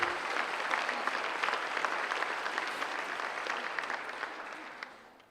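Audience applause at a school sports awards ceremony, a full steady wave of clapping from a large crowd that holds for several seconds, then tapers off and fades at the end.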